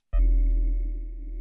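A sample stretched and pitched down 40 semitones, an abrupt onset into a deep, sustained bass drone with a faint warbling texture, slowly fading over about a second and a half.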